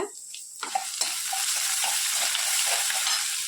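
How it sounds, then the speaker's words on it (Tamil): Urad dal, chana dal and crushed ginger and garlic sauté in hot oil. A few clattering knocks come first, then a steady, close crackling sizzle. "உளுத்தம்பருப்பு கடலைப்பருப்பு நல்லா வதக்குங்க இஞ்சி பூண்டு இடிச்சதை போட்டு நல்லா வதக்குங்க"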